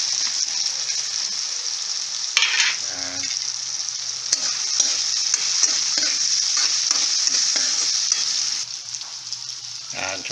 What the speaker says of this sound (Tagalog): Ilalagay na natin yung ating sibuyas.